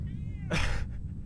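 A single short cat meow comes in clearly over a low background hum, with a faint voice present.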